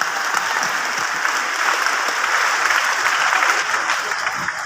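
Audience applause at a gathering, dense sustained clapping from a crowd, loud and even throughout with no talk over it.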